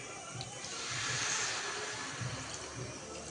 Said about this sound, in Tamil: நல்லா தண்ணி சேர்த்துக்கணும்.